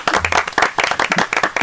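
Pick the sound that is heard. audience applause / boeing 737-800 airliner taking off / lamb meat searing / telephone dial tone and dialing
audience applause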